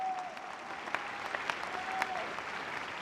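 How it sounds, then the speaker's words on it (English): An audience at a high school graduation ceremony claps together in a steady, distant wash, with a few faint whistle-like tones rising briefly over it. "we can give an applause for that"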